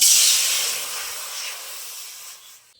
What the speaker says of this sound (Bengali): এবার আমি নাড়ু পাকানোর জন্য কড়াইয়ে জল দিয়ে দেবো।